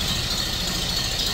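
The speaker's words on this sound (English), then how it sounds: "I do have it idling a bit fast." A Ford Model A engine fitted with a Burtz block idles a bit fast, a steady continuous rumble with light mechanical rattle, close and alone throughout.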